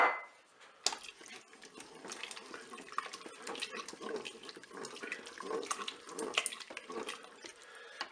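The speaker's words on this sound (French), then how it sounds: "Je mélange." Crème fraîche is stirred into a chicken blanquette in a Cookeo multicooker, a soft, wet, continuous swishing and scraping close by with occasional light knocks against the pot.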